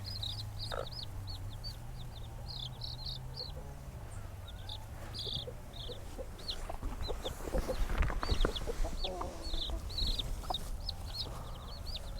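A hen clucks in low repeated calls while chicks peep in rapid high chirps throughout, close by, over faint rustling and no talking.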